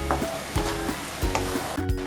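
Poppy seed paste sizzles and is stirred in a pan for egg curry, a steady frying hiss broken by a few scraping stirs close by.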